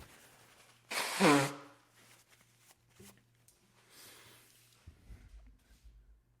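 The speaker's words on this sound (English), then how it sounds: "I have to blow my nose." A single loud, wet nose blow bursts out, followed by quiet rustling and faint shuffling movement.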